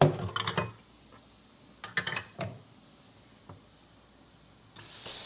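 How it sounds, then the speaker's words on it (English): Dishes, glassware and cutlery are tossed into a kitchen sink in several sharp, close clattering bursts, with quiet gaps between the clinks. "Throw these in the sink."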